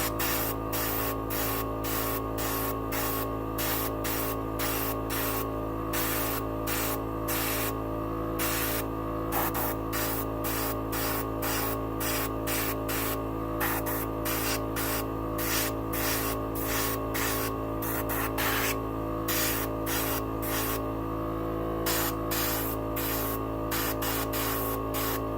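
A steady hiss of a dual action airbrush spraying paint on a Gundam model kit runs continuously, broken by rapid rhythmic clicks over a constant background hum.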